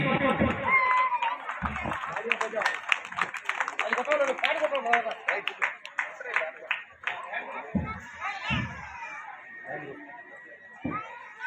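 A crowd claps during a felicitation ceremony at a village temple's Shivaratri celebration, with scattered and continuous applause mixed with chatter and an announcer talking over it.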